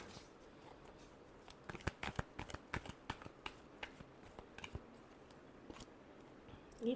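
Tarot cards being shuffled by hand, heard close but quiet as a quick run of crisp, irregular clicks and riffles with no talking.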